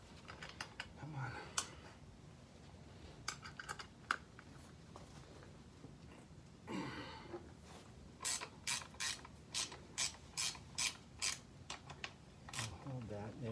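A ratchet wrench loosening a bolt on a Yamaha Super Ténéré motorcycle during an oil change and final drive service, heard as a close run of sharp, rhythmic clicks after some scattered mechanical rattles, with quiet handling noise between strokes.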